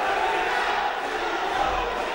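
Arena crowd at a boxing bout between Zdravko Nikolov and Mitko Hristov, a dense steady roar of cheering and shouting voices filling the room without break, loud and continuous.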